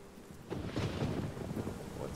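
Thunder rumbles over steady rain in a Dreams PS4 horror game, a low rolling crash swelling after a quiet start and lingering under the hiss of rainfall.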